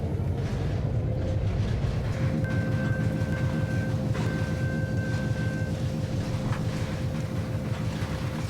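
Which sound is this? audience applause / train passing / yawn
train passing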